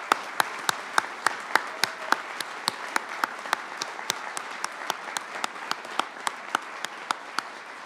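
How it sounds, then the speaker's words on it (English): Commencement audience applauding graduates, a steady crowd clapping with sharp individual claps standing out near the front, continuous for several seconds with no talk. "Will the audience please join me in a round of applause?"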